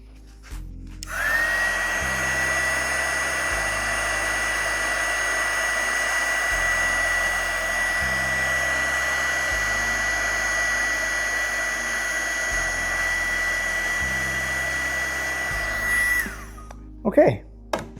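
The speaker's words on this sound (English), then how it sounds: "Grab the heat gun." A heat gun runs steadily in a workshop during a Bauer shop vac switch modification, giving a continuous close blowing whine with a thin high tone for about fifteen seconds before cutting off, with faint low rhythmic thumps underneath.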